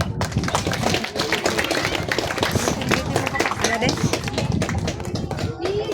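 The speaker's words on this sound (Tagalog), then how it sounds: "Palakpak po." Guests at a wedding give the newlyweds warm applause: dense, continuous clapping from a crowd that stays close and loud throughout, with voices mixed into the noise.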